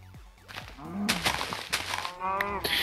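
A Minecraft cow gives a couple of low moos while being hit, with soft punchy thuds and a rising lowing call near the end, all fairly close.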